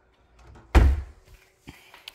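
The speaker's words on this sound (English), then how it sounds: "Oh, another corner door." A kitchen corner cabinet door swings and bumps shut with one solid thunk, followed by a couple of lighter knocks, close by in a quiet room.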